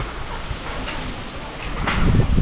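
Wind gusts outdoors, a rough rushing bluster with buffeting against the microphone that swells louder toward the end.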